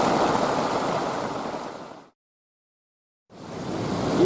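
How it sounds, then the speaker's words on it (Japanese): Typhoon wind and rain batter a riverside campsite on a Shikoku motorcycle camping tour, a loud broadband roar that drops to silence for about a second and then resumes at full strength. "いや今ちょっと台風の直撃で"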